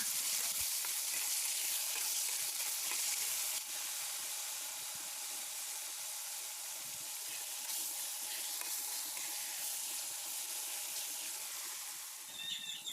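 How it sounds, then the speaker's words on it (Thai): Marinated beef frying steadily in hot oil over medium heat, a dense, close hissing sizzle that runs continuously with little change throughout, no voices over it. "เดี๋ยวเราจะทอดไปเรื่อยๆค่ะ เพื่อให้เนื้อสุกตามที่เราต้องการได้เลยนะคะ"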